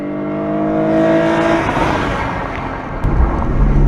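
A Hyundai Genesis Coupe's 3.8-liter V6 revs hard close by, intake roaring up in one sustained rise, then dropping away to a deep rumble, with no talking.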